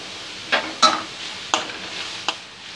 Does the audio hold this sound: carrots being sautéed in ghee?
yes